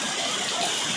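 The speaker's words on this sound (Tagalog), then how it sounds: "Grabe lakas ng ulan." Heavy rain pouring down during a storm in Daet, heard as a dense, steady broadband hiss with a gushing, watery texture, close and continuous with no talking.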